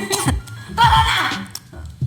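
A short cough close by, a couple of rough bursts mixed with throaty sounds and a hint of laughter.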